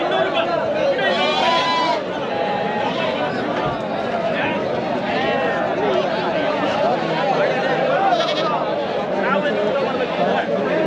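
A busy goat and sheep market at Magadi near Bangalore, with dense crowd chatter and haggling voices throughout, and occasional sheep and goat bleats rising faintly through the babble.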